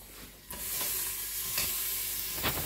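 Chicken pieces browning for a tajine inside a Cookeo multicooker, a close, bright sizzle that starts abruptly and holds steady, with a few light stirring scrapes.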